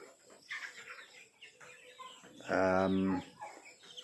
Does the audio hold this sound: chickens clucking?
yes